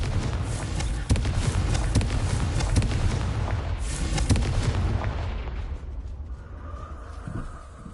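A fiery Confringo spell blast in Hogwarts Legacy, a loud booming burst and rumble that fades toward the end, with a voice faintly underneath.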